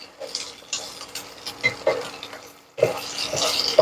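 A spatula scrapes and clicks against a pan as eggs stir-fry, with soft sizzling growing louder after a brief pause.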